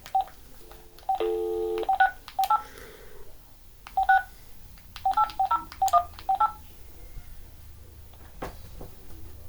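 Touch-tone telephone number being dialed, with a series of short DTMF beeps in quick bursts, one longer cluster of tones near the start, close and clear over faint background noise.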